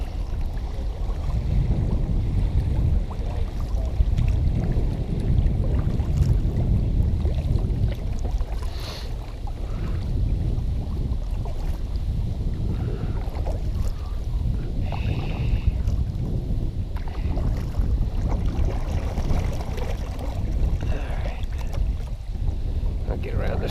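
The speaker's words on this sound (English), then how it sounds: "Windy." Steady wind rushes over the microphone while kayaking on Tuscarora Creek toward the Juniata River in Pennsylvania, a continuous low roar with faint water sounds and no speech.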